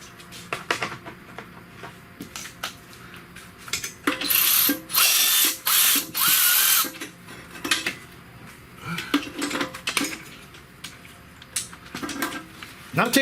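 A bolt being removed from a 3.4L engine on a 2008 Pontiac Torrent during head gasket work, with metallic ratcheting clicks and wrench clinks, then a sustained whirring power-tool burst, all up close.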